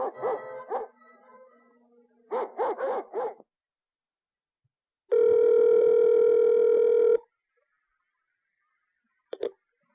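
A chained dog barks in quick clusters, then a steady telephone dial tone sounds for a couple of seconds, followed later by one more short bark.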